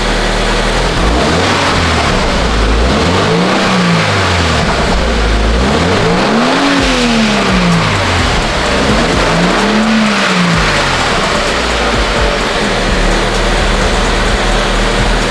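A Toyota GR86 engine revs up and down in three rising swells over a constant idle rumble, loud and close with a fairly muted stock exhaust tone.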